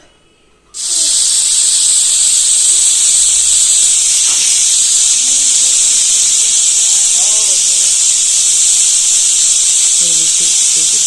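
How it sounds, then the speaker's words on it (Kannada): A loud, steady high-pitched hiss of steam from a pressure cooker whistle starts abruptly after a brief quiet moment and continues unbroken, with faint clinks and voices underneath; fenugreek rice is cooking inside. "ಮುಚ್ಚಳನ ಮುಚ್ಚಿ ವಿಜಿಲ್ನ ಹಾಕಿ ಮೂರು ವಿಜಿಲ್ ಕೂಗಬೇಕು"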